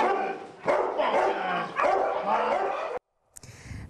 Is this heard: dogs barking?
yes